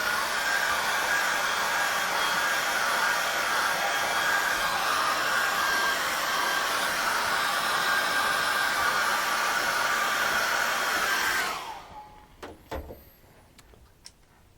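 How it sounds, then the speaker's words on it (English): A hairdryer blasts steadily over drying acrylic paint on a river landscape canvas, a loud, close, constant whoosh for about eleven seconds before switching off, followed by a few faint clicks and handling knocks. "I'm going to zip that with a hairdryer"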